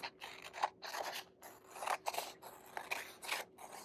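Scissors slice through paper in a steady series of close, rasping snips, continuous and fairly quiet, with no voices, while cutting out a paper horse shape.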